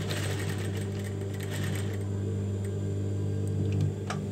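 A sewing machine runs steadily while stitching a cotton corduroy dungaree dress, its motor drone continuous and close for most of the stretch, with a slight surge and a small click near the end as it stops.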